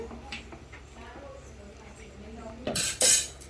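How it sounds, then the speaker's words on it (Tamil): Salt is stirred into a paneer butter masala gravy in a pot, with soft spoon scrapes and light clinks and then a couple of sharper metallic knocks near the end. Someone talks over most of it. "கடைசியா அந்த டிஷ்ஷுக்கு தேவையான உப்பு நல்லா கிளறி விட்டுக்கணும்."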